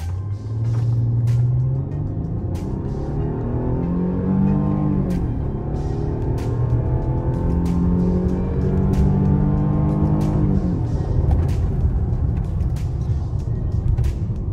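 A Mercedes-Benz E-Class W211 320 V6 accelerating hard from a standstill, its engine note climbing steadily through the revs, briefly dropping at a gear change, then rising again before settling, loud and close inside the cabin.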